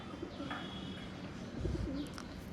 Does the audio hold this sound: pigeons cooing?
yes